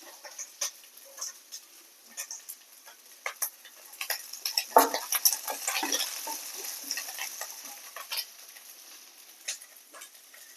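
Okra fries in a pan for sambar, heard as light sizzling crackles with scattered ticks and stirring scrapes that build to a denser burst midway, close but fairly quiet, with no talking.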